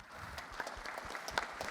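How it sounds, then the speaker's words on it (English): Audience clapping at a company annual general meeting, a short burst of scattered, fairly faint applause from a seated crowd. "They do deserve separate applause."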